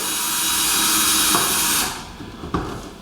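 A power drill drilling into a wall whines steadily and loudly for under two seconds, then cuts off, leaving quieter room noise with a couple of sharp knocks.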